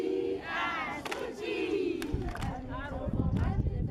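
Residents of a community in Botswana receiving donated rice bags cheer together, a lively crowd of raised voices and shouts rising and falling, moderately distant with overlapping excited calls throughout.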